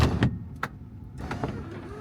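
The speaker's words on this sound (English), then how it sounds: "We got a sunroof. Let's check it out. There's the tilt function." An electric sunroof on a 1989 Volvo 740 Turbo sedan tilts open with a brief motor whir and a couple of mechanical clicks inside the quiet cabin, no one talking.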